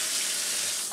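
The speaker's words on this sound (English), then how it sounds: "then we add some hot water." Hot water running into a home-brewing beer vessel, a brief steady rushing pour like a tap filling a container, close and continuous.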